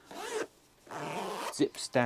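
Zip on faux suede western-style men's boots being run down, heard as a few short rasping bursts with quiet gaps between them, close and fairly loud.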